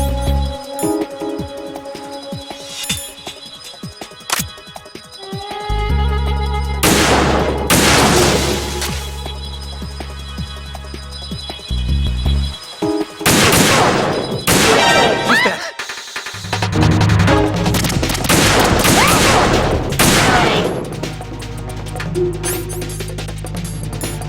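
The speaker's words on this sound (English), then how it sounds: "I'll provide support fire from here." Bursts of video game gunfire from Metal Gear Solid 2, with loud impacts and crashes in several heavy clusters separated by brief pauses, over a steady low in-game drone.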